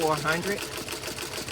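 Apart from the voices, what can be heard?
embroidery machine sewing a wide satin stitch on a sock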